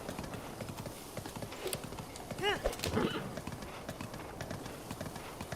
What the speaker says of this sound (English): And then I just ride the trash horse right this way